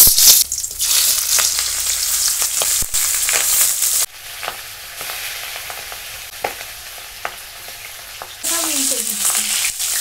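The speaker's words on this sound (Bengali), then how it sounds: "তেলটা গরম হয়ে গেছে, এখন আমি মাছগুলো একে একে দিয়ে দেবো।" Singhi fish frying in hot mustard oil in a wok, a loud continuous sizzle and crackle with stirring scrapes; it drops quieter partway through, then surges loud again near the end.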